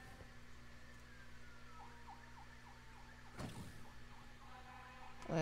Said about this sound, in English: That sounds like a fire truck.